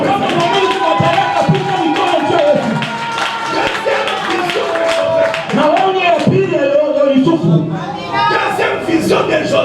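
A church congregation at a prophetic service loudly acclaiming the Lord, with a dense mix of shouting voices, cheering and rhythmic clapping, close and energetic.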